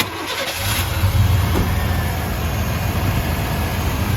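A 1996 Chevrolet Silverado pickup's 5.7 Vortec V8 engine cranks and catches, then settles into a steady, loud rumbling idle close by.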